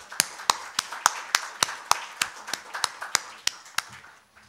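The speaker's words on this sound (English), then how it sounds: "And let us thank the panelists with some applause." Sparse, steady clapping from only a few hands at a conference panel session, distinct claps spaced about three per second, close by, fading out at the end.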